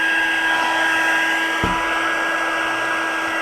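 An embossing heat tool blows hot air in a steady, loud, continuous whoosh with a constant whine, holding level throughout with a brief thump partway and no talking.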